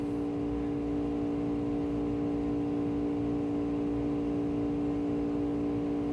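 An old freezer gives off a constant electrical buzz, a steady humming drone with no change in level, filling the background with no speech.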